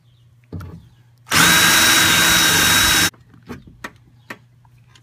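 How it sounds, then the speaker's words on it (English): A power drill drills out the window regulator rivets inside the door of a 2001 Ford Windstar minivan, one loud close burst of about two seconds, with scattered clicks and handling knocks before and after. "now we're gonna drill out these rivets"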